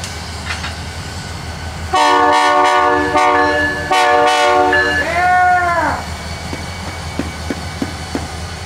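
A train horn blasts in two long, loud harmonic honks with a brief gap, then a shorter bending note, over the steady rumble of a passing train near a lakeside campsite.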